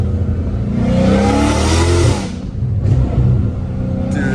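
A Dodge Challenger Hellcat Redeye with catless exhaust pipes revs hard and loud for about two seconds, drops briefly, then roars again close by with a throaty exhaust rumble.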